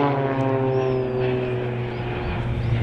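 Blades aerobatic team aeroplanes flying in a display at the East Fortune Airshow, a loud steady droning engine hum with a constant tone, close and continuous throughout.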